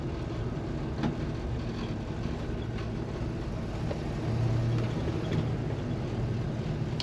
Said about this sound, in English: it has quite a nice little exhaust note